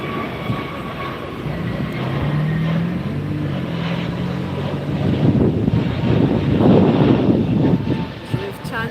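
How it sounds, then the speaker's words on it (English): An American Airlines jet takes off at LAX, its engine roar building from a low rumble into a loud, rising thrust with a whine on top, heard outdoors from a nearby hill. "American taking off here."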